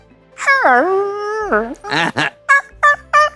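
A voice imitates a dog, drawing out one long wavering howl, then adding a few short yelps and whimpers, close and loud.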